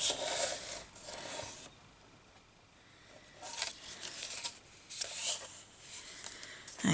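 Scissors snip paper scraps for a handmade journal in a quiet room, giving a few soft, close cutting and rustling bursts separated by brief pauses.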